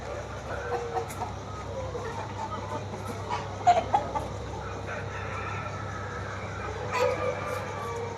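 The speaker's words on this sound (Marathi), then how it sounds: "एक कोंबडी आहे ना कमीत कमी सात ते आठ किलोची कोंबडी आहे" Large chickens of seven to eight kilograms cluck and squawk intermittently over a low steady hum on an egg farm, with a few sharper calls standing out near the middle and end.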